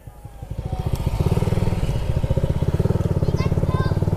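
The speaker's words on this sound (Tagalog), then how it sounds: "May motor!" A motorcycle putters past close by on a rural road in Barcelona, Sorsogon, its engine firing in a fast, steady rhythm that grows louder and stays near, with people talking over it.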